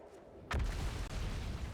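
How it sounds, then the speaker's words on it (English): Explosion in the video game Outer Wilds: after a quiet rumble, a sudden deep boom bursts in, followed by a sustained loud roaring rumble that continues to the end. "Oh, I didn't expect an explosion though."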